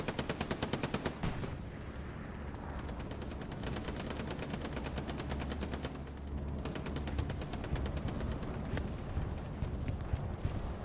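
Sustained machine gun fire in the World War II shooter Hell Let Loose, a dense rapid stream of shots rattling without pause, with heavier booms of distant battle underneath and no voices over it.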